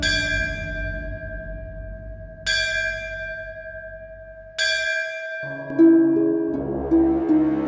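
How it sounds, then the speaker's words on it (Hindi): A temple bell, a Shiva temple bell at night, is struck three times, each ring lingering and fading, before other tones join in at the end. "इतनी तेज ध्वनि में घंटी बजा रहा है"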